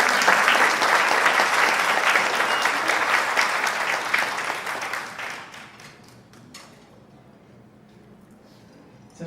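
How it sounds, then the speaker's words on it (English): Audience applause for a teenage girl coming up to help a speaker at a Houston club event: a dense, loud wash of clapping for about five seconds, then tapering into scattered claps and fading. "You guys give a hand clap for Anaya"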